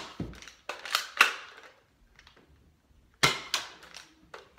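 A Nerf Maverick toy blaster firing and being cocked, giving sharp plastic snaps and clacks, about five distinct shots with clicks between them, close and fairly loud with no talking.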